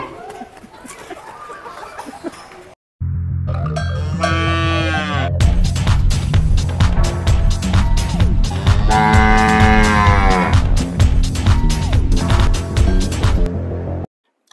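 Cattle at a farm in Kamrangirchar, Dhaka, Bangladesh, low loudly in several long, close moos, one after another, with background noise between calls.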